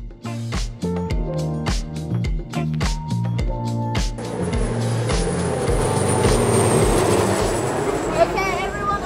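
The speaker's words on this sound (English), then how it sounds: "Okay, everyone aboard the train. We're leaving now." A train sounds rhythmic horn-like toots at a children's science museum, then gives way to a steady rumbling, hissing departure with a long high squeal, close and fairly loud, with no one speaking.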